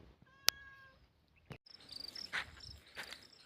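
A hungry cat gives one short, sharp meow near the start, set outdoors by a vegetable and lemon-tree garden, with steady insect chirping and faint rustles continuing afterward.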